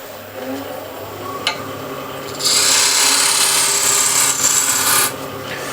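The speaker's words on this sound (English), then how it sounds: "with the scraper, and just going to shear scrape it if there is any lump" Steel scraper shear-scraping a wood piece on a lathe, a steady bright hiss running about two and a half seconds over the hum of the spinning work, with a brief tick just before it.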